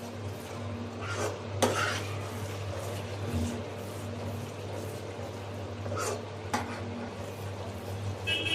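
A spoon stirs a chocolate mixture in a pan as it cooks toward golden brown, giving steady scraping and clinking under a constant low hum, with no talk.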